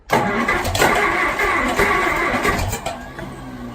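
A Farmall M tractor, a diesel model set to run on gasoline, starts up after sitting idle for two to three years, its engine catching with a loud burst and then chugging roughly and steadily up close.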